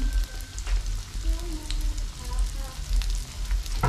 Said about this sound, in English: Our cooking oil has boiled.